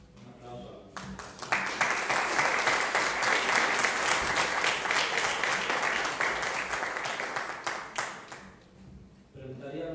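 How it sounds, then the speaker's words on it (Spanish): Applause fills a municipal council session, a dense, steady burst of many hands clapping for about eight seconds before fading, with brief talk just before and after. "Un aplauso."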